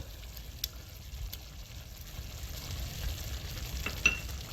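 Yogurt being stirred into mutton biryani in a pan, a steady low sizzle with soft scraping strokes of a spoon and a few sharper clinks near the end, no voices.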